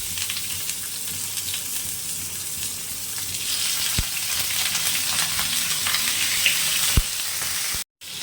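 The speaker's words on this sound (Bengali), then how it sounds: "এবার হালকা আগুনে মাংসগুলো এভাবে ফ্রাই করে নেবে" Marinated meat, barbecue-style wings, sizzles in a little oil in a frying pan over low heat, a steady close hiss and crackle throughout with a couple of brief pops and a short dropout near the end.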